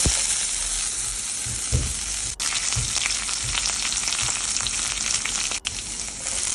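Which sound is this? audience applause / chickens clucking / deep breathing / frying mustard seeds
frying mustard seeds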